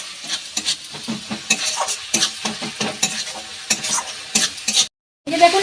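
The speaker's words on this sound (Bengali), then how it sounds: "একটু জল দিয়ে দিচ্ছি, তাহলে মশলাটা ভালো করে মিশবে" Egg curry masala sizzles in a pan after a splash of water, with a spatula scraping and stirring in quick, uneven strokes over a steady hiss, close up; a brief silent break comes near the end.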